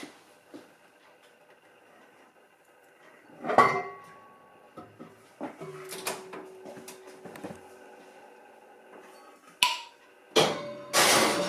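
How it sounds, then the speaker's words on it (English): Metal lid of a pressure canner being worked open after canning chicken and vegetable broth, giving scattered clanks and scrapes with a sharp metallic clatter near the end, close and moderately loud. "we are ready to open the pressure canner"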